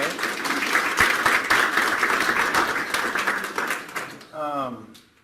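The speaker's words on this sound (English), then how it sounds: "Let's give a round of applause" A room full of attendees at a Las Vegas business-buying bootcamp claps in a sustained round of applause that fades out, with a voice starting to speak just as the clapping ends.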